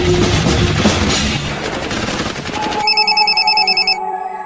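Animated shootout in Killer Bean: a loud burst of rapid gunfire that gives way to a sharp repeating electronic ringing tone, like a phone or alarm, near and clear.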